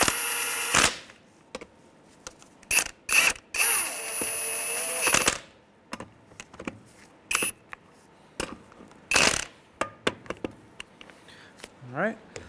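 A ratchet with a 19mm socket snugs the lug nuts on a 2003–2011 Honda Element wheel. Sharp, clicking bursts come in uneven spurts, with someone talking in between.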